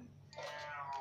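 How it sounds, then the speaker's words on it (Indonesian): A cat in heat meows in a drawn-out, wavering call lasting about a second, fairly faint and heard alone against a low background hum. "Jika kalian mendengar suara kucing, itu kucing aku."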